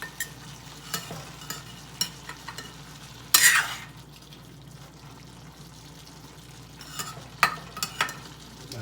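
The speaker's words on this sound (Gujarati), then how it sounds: "શાકને સારી રીતે હલાવીશું" A spoon stirs green bell pepper curry in a hot pan, giving soft scrapes and a low sizzle, with one sharp louder burst of frying partway through.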